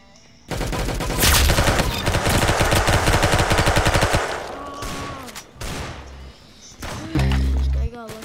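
Roblox Arsenal gunfire, with loud rapid automatic bursts lasting several seconds, then a few scattered shots and game effects, while a voice talks faintly underneath.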